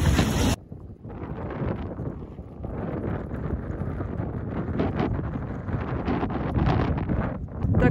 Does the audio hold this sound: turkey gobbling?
no